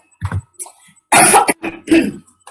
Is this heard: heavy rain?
no